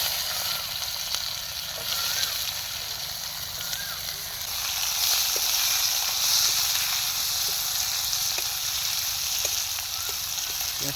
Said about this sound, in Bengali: এবার আমরা কুচানো পেঁয়াজটা দিয়ে দিলাম।